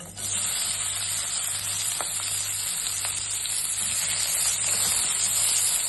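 Onion sizzles hard in hot oil in a pressure cooker pot for mushroom rice, a loud, steady, close hiss that runs without a break.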